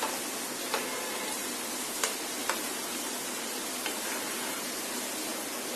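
Egg-coated french fries frying in hot oil, a steady broadband sizzle with no talk, broken by a few faint clicks and ticks.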